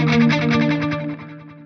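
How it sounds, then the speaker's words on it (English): A short guitar phrase through a Fractal FM3 with warm, darkened analog-style delay repeats trailing off, the echoes softening and fading over a sustained tone. "I like my delays to kind of sound like old school analog delays"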